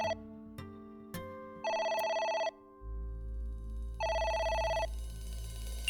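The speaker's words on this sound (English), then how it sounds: "It's the phone. Maybe try picking it up?" A telephone rings in the video game AI: The Somnium Files. The ring comes as two long, clear electronic bursts, with short clicks just before them and a low steady hum underneath.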